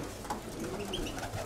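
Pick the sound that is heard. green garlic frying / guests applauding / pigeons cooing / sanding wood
pigeons cooing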